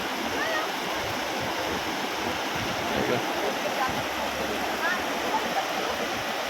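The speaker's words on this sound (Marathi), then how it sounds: "पाणी बघा ना किती आले आता इथं ना सगळीकडंच खूप पाण्याचं प्रेशर मोठं आहे" Floodwater rushes under high pressure through open channels, a loud, constant roaring torrent close by with splashing and gurgling, and voices faintly beneath it.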